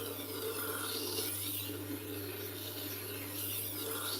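A kitchen knife is honed on a Tormek T-2 Pro sharpener, with a continuous scraping, rasping grind of steel on the wheel over a steady low motor hum, close and fairly quiet throughout.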